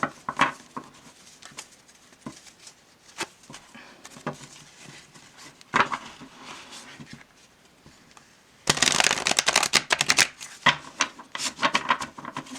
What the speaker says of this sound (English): They're not too bad to shuffle.